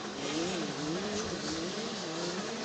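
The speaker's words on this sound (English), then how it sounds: "Looks like Millard got the pass done and he's got himself up in the first place on that Husqvarna" Husqvarna motocross bikes race with 12-16 year old riders at the controls, their engines a loud, steady buzzing drone whose pitch rises and falls as the throttle works, with no talk over it.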